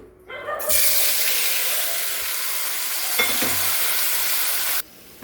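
Tomatoes fry in hot oil in a bowl for a tomato chutney, a loud steady sizzle and hiss that starts abruptly, holds for about four seconds with a brief stir partway through, then cuts off.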